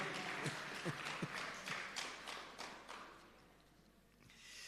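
A brief round of audience applause at a Jamaican ministry rebranding and quality recognition ceremony, scattered claps rising then fading out over a few seconds in a large room.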